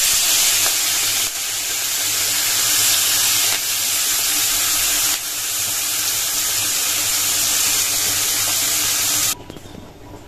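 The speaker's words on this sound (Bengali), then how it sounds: "আর এখানে তেলে দিয়ে দিয়েছি গোটা জিরা আর তেজপাতা ফোড়নে" Whole cumin seeds and bay leaves sizzle steadily in hot oil, a loud, continuous crackling hiss close up that runs without pause and cuts off abruptly near the end.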